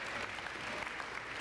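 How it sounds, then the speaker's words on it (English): Steady applause from a crowd of parents and families at a spring high school sports awards ceremony, a dense continuous wash of clapping filling the room at moderate level. "we'll give a round of applause to the parents"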